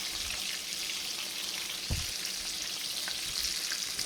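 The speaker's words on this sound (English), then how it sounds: "Now I'm going to add the cheese to melt them" Burger patties sizzle in a hot pan as cheese melts over them, a steady bright frying hiss with faint crackles and one soft low knock partway through, no voices.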